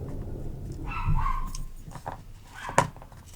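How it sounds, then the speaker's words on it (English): Small dogs bark and yip in a short burst, a few sharp calls close by over steady background noise, with one louder bark near the end. "They like to bark a lot, especially when their owners get home."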